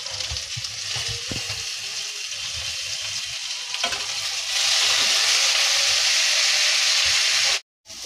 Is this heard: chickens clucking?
no